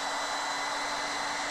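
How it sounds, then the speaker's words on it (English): A hair dryer roars steadily at full power, drawing about 1,350 watts from a battery backup power station, a constant loud whooshing blow with no other sounds. "let's test it out with a hairdryer"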